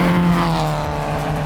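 A Honda Civic race car built by Spoon and Built by Legends, its engine breathing through headers, revs loudly and steadily at close range with a strong droning tone, holding high revs throughout with no talking.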